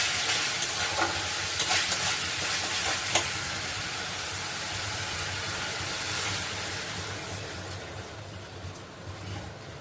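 Spiced masala for a kofta curry sizzling in oil as water goes in, with steady frying hiss and stirring scrapes throughout, loud and close, no talk.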